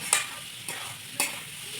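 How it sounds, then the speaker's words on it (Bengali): A spoon stirs salted food seasoned with turmeric in a hot pan, three distinct scraping strokes spaced about half a second apart over a faint sizzle, close and fairly quiet. "নাড়িয়ে নেবো।"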